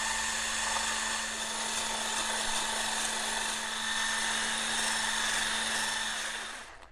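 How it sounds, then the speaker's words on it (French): An electric whisk whips very cold whole cream for a chocolate log cake, a steady high-pitched motor whine running unbroken for about seven seconds before it cuts off. "on va remonter la crème bien froide au fouet électrique"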